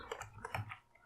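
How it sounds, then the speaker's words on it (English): Brief burst of typing on a computer keyboard, a few quick close key clicks in a short cluster, quiet and alone, with no talking. "So I am going to just type this"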